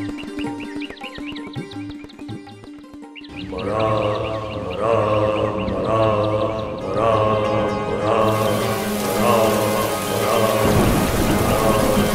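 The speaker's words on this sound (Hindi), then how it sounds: "एक दिन बहुत भारी वर्षा हुई।" Heavy rain pours steadily in a thunderstorm, with deep rumbling thunder building partway through and the downpour swelling louder, with no voices.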